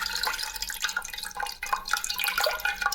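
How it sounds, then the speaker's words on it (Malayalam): Squeezed tamarind water is poured into a cooking pot for Kerala-style rasam, with quiet irregular splashes and drips in short bursts. "നമ്മുടെ പുളി നല്ല പോലെ പിഴിഞ്ഞ് അതിലേക്ക് ഒഴിച്ചു കൊടുക്കണേ"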